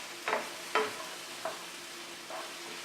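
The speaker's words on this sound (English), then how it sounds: "And of course you want the mushrooms a little bit sauteed also" Onions, celery and mushrooms sautéing in a pan, with a faint steady sizzle broken by four soft scraping stirs, spaced unevenly and fairly close, with no voices.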